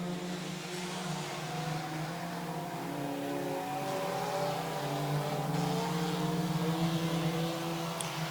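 Race cars run a heat race around a track, their engines a fairly distant, continuous drone that swells and fades slightly as the cars circle.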